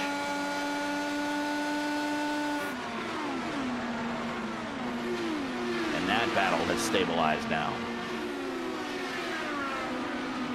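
IndyCar race cars lapping Phoenix in a racing video game, a steady high engine whine with shifting pitch from several cars running close together, heard under continuous commentary.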